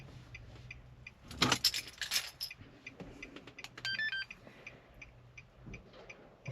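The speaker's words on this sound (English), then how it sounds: "Turn off ignition and remove key." A key ring jangles sharply as the key is turned off and pulled from the ignition of a 2007–2012 Nissan Altima, followed by a short run of faint electronic chime tones inside the quiet car.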